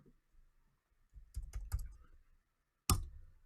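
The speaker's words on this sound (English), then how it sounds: "Let me type this for you." Computer keyboard typing in short bursts of clicks and key presses, a cluster of quick taps followed by a pause and one sharp final keystroke, close and fairly quiet.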